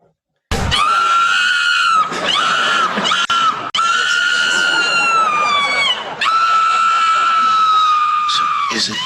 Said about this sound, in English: Is it just screaming?